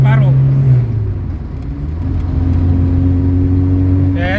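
A 1984 Mitsubishi Lancer SL box type with a misfiring fault revs at half throttle, its loud engine note dipping and then climbing and holding a steady drone close by.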